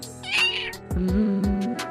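A pet cat lets out several loud, close meows in a rising and falling, somewhat complaining run, each call drawn out and overlapping the next.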